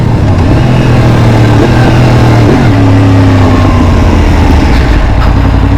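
A motorcycle engine that replaced a KTM 790 accelerates hard and loud close to the mic, rising in pitch with quick-shifter gear changes that drop it quickly between pulls, and no talking.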